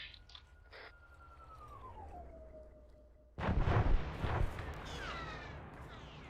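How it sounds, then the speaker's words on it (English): Artillery shells in a military video game slam in with a loud, close booming burst about halfway through, followed by rumbling debris, after a steady mechanical drone with a falling whine. "Are you shooting artillery at us? I think that's artillery."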